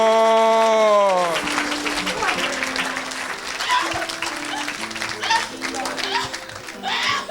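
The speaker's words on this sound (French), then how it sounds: "Acclame très fort le Seigneur." A church congregation claps and applauds loudly and continuously in praise, the crowd noise mixed with music and a preacher's voice speaking over it.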